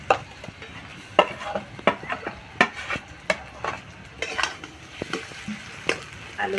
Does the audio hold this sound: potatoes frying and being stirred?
yes